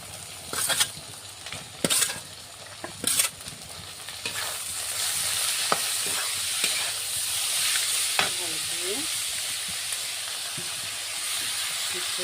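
Dhekia greens frying with cumin paste in a pan, a loud steady sizzle and hiss that follows several sharp scraping stirs, with occasional utensil knocks and no talking.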